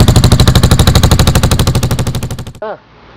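A loud, rapid, evenly spaced chugging of a cafe racer motorcycle engine sputtering into life for a few seconds, slowing, then cutting out with a brief whine.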